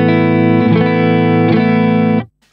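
An electric guitar plays through a Strymon Cloudburst reverb pedal switched to bypass, sounding a loud sustained chord that is restruck a few times and then cuts off abruptly with no lingering tail.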